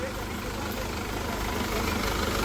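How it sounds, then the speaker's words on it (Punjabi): A tractor engine idles at slow speed nearby, a steady low diesel rumble that stays even throughout with a slight rise toward the end. "ਇਹ ਟਰੈਕਟਰ ਬਿਲਕੁਲ ਹੌਲੀ ਸਪੀਡ ਤੇ ਹੌਲੀ ਹੌਲੀ ਦੇ ਦੇਖੋ"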